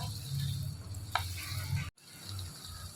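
Chicken sizzles and fries in ghee with ginger garlic paste while being stirred in the pan, a steady close sizzle with a brief clink of the spoon and a short break near the end.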